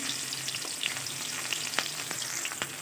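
Onion fries in hot oil with cumin seeds in a pan, a dense steady sizzle with scattered crackles and faint stirring scrapes, close and continuous.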